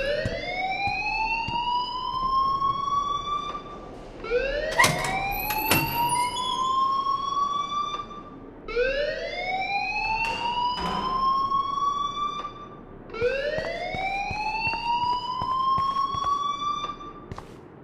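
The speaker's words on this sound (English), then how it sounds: "please turn off that alarm" A school fire alarm in the Life is Strange video game, loud repeated rising electronic whoops, each sweep lasting a few seconds, with a few sharp clanks between cycles and no talk.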